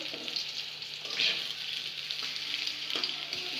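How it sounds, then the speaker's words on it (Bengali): Datina fish frying in hot oil in a pan, a steady close sizzle with brief louder crackling bursts, no talk. "ভাজো, লাল করে ভাজো তাহলে, যদি ভালো হয়"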